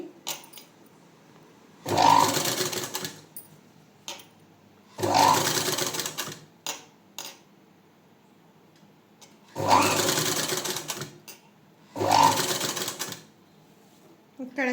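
A sewing machine fitted with a normal presser foot stitches thread piping onto cloth in four loud bursts of rapid whirring, with quiet pauses between them.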